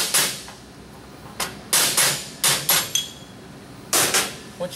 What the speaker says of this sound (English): You'll take a small screw hammer and just tap the hub off.